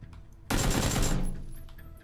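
Gunfire in PUBG Battlegrounds: a dense, loud automatic burst erupts after a quiet moment, rattles for about three quarters of a second, then its echo fades away with no talking over it.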